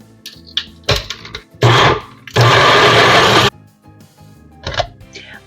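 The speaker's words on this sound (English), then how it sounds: "let me pull out my blender and we'll get this blended up" A kitchen blender runs in loud bursts, pulsing briefly before two longer sustained whirs, blending beets into a chunky beet hummus dip, with quieter clatter between runs and no talk.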